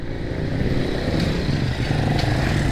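A 2025 Honda Click scooter being ridden, its engine giving a steady droning hum with road and wind noise, constant and fairly close throughout.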